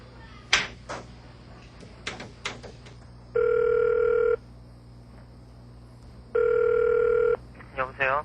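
A telephone handset produces a dial tone and dialing tones in two long steady beeps, separated and followed by clicks and handling knocks of the receiver, with quick pulsed tones at the end, close and clear.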